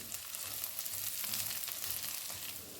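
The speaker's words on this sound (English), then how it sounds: "3 minutes later, I add in chopped peppers for the spice. And I stir in." Chopped peppers are stirred into plantain frying in a pan, making a quiet, even sizzle with soft intermittent scrapes of stirring throughout.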